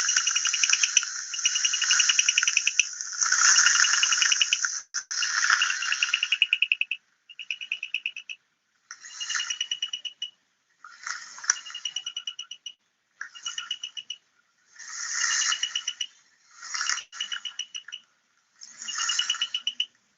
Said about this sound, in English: And then we have one of the smallest frogs, bushfrogs from Western Ghats. This species is called Bombay Bushfrog.